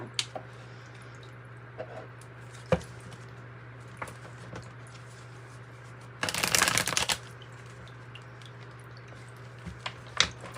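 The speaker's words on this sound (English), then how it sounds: "Let's pull from the regular tarot deck." A tarot deck being shuffled, heard as a brief riffling burst in the middle amid faint scattered card taps and light handling sounds in a quiet room with a low steady hum.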